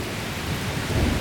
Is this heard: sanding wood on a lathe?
no